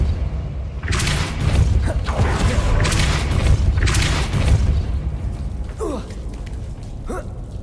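The Depulso spell is cast in the video game Hogwarts Legacy. It gives deep booming whooshes in repeated bursts, followed by softer creaking magical swishes, with no speech over them.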